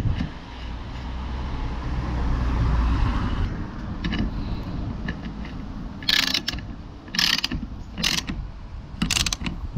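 A small bolt on the rear wiper arm of a Renault Clio 4 is tightened, with close ratcheting clicks arriving in short bursts over a faint low background rumble.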